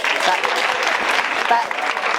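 Audience at a French stand-up comedy show clapping in a short, dense burst of applause that holds steady and close throughout.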